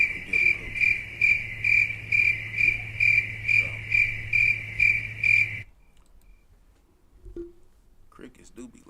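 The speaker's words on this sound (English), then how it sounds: "Crickets do be loud out here" Loud crickets chirp outdoors at night in a fast, pulsing rhythm for about five seconds, then stop abruptly, leaving faint background noise with brief voices.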